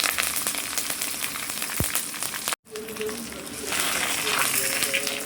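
Asafoetida and curry leaves sizzling as they hit hot oil for a South Indian tempering, a loud steady frying hiss with a brief cut partway through and faint talk beneath.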